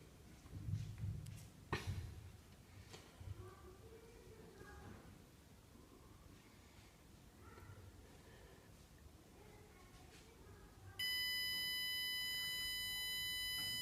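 A book shelf timer sounds its alarm after a ten-second test countdown, a steady electronic beeping tone that starts suddenly near the end and holds loud and continuous over faint room noise.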